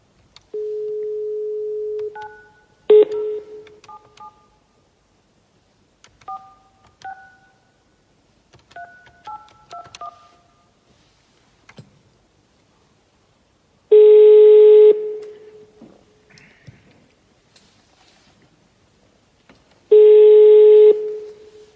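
Telephone keypad tones as a call is placed over a line to a citizen affected by a power outage: several short bursts of dialing beeps in uneven groups, then two long, loud tones that sound like ringback, with no talking.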